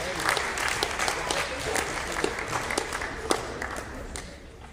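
Steady applause from a crowd at a high school sports awards assembly, many hands clapping continuously at a moderate distance with a few louder claps standing out.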